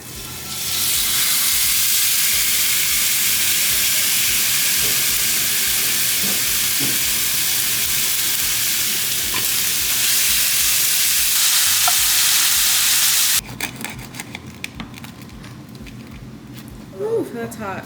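Food sizzling and frying loudly in a hot pan while being stirred, a steady dense hiss for most of the clip that drops off abruptly near the end, with people talking.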